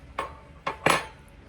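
A spoon cuts through a tender pork chop in a hashbrown casserole dish, giving three sharp metallic clinks against the dish, the last one loudest, with quiet between them and no talk.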